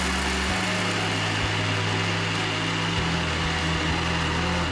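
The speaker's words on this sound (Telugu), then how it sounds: "ఇవన్నీ ఇందులో కలిపి గ్రైండర్ పట్టుకోవాలి." Kitchen grinder running steadily to grind spices, onions, garlic and green chillies for Telangana-style corn garelu, a continuous loud motor whine with no talk.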